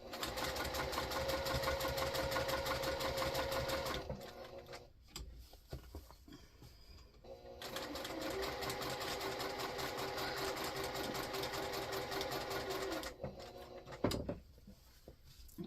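Sewing machine basting around a fabric basket, two long steady runs of rapid close stitching broken by a quieter pause with handling noises, ending with a brief thump.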